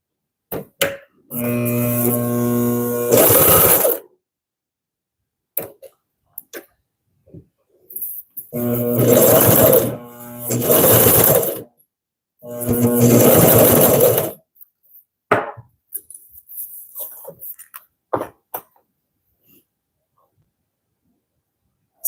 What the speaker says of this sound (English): we're going to sew this together using a half seam allowance